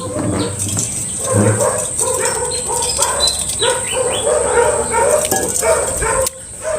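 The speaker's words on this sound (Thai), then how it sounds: "พอพูดเรื่องนี้ใช่หมาเห่าทีอ่ะ อย่าเห่าเลยลูกเอ้ย" Dog barking nearby in a home setting, several sharp barks and yips with a constant high electronic whine in the background, and the dog keeps sounding off over a busy, cluttered room tone throughout.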